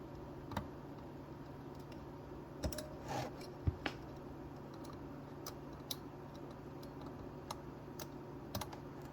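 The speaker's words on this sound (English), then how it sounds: "take your paper clip and push on that tumbler, and that should go down" A paper clip presses the tumblers of a glove box door lock on a 1970-1981 Firebird Trans Am, making faint, sparse metallic ticks and clicks over a low steady hum.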